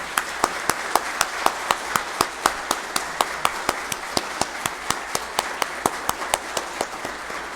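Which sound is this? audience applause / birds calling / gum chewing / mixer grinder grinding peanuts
audience applause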